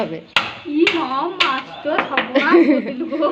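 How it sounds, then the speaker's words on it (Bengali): Sharp chops of a knife through a magur catfish's head, several distinct hits spaced apart, close and fairly loud, with someone talking over them. "মাছের মাথা কাটতে হবে"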